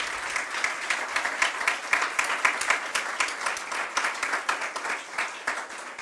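Audience at a panel on Mexican and Spanish gastronomy giving a round of applause, a moderate room of hands clapping steadily and close for about six seconds, with no voices over it.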